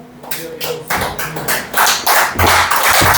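Congregation applauding the Lord during a Spanish-language church service, a burst of clapping that swells and grows denser and louder after the first second, with a voice faintly present underneath.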